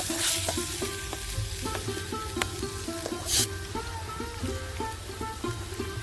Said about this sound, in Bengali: এতে আমি সজনে ফুল বাটাটা দিয়ে খানিক্ষণ খানিকক্ষণ এটা একটু ভেজে নেবো